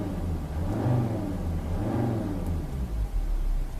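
A car driven with hand controls accelerates, its engine rumbling and rising in steady low-pitched surges with a whirring tone, close and continuous throughout.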